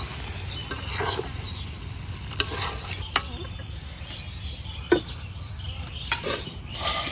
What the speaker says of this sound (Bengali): এখন এবার লাড়তে লাড়তে মাংসটাকে ভালো করে একটু কষাই নিই